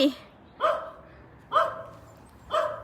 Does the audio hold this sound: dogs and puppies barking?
yes